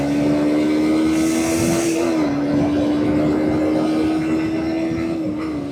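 A 125cc motorcycle engine drones steadily while riding on a hot day, a loud close sustained hum at near-constant revs with wind noise.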